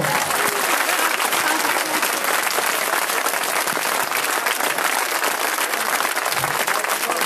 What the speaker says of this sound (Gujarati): બે હાથ ઊંચા રાખીને જોરદાર તાળીઓ પાડો